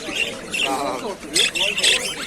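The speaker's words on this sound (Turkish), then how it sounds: "Çok güzel kuşlar" Birds, including canaries, squawk and chirp in repeated shrill bursts over a busy background with people talking nearby at a bird market in Izmir.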